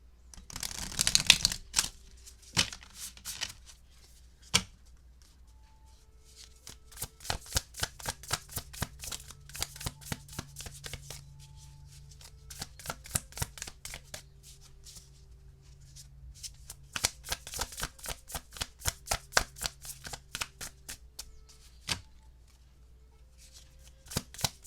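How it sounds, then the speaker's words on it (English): Tarot cards shuffled by hand, close and crisp: bursts of rapid riffling clicks separated by short pauses over a long stretch, with faint low hum beneath and no talk. "I'm going to shuffle one more time."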